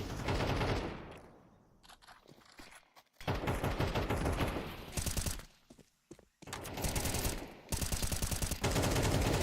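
Esports video game match with repeated bursts of automatic gunfire shot through a wall, loud rapid volleys broken by brief quiet gaps, with no commentary over the shooting.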